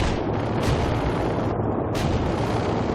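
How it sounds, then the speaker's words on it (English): Artillery barrage in the World in Conflict strategy game: a dense, continuous roar of heavy explosions and booming blasts, loud and sustained throughout with two sharper bursts standing out, no talk. "We can deploy and lay down the heavy barrage."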